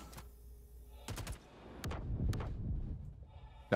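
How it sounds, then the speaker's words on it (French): Explosions in the Star Citizen space game, with several sharp, loud bursts at separate moments, and rumbling, crackling debris sounds building between them. "Là, elle a explosé parce qu'elle était assez proche."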